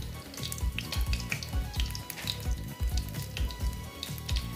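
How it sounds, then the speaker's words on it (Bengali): Garam masala frying in a pan for Afghani chicken, a sizzling hiss under repeated low thumping knocks and scrapes of a spoon against the pan, near and steady without speech. "গরম মশলাটা দিয়ে একটু গরম মশলাটা ভেজে নিচ্ছি।"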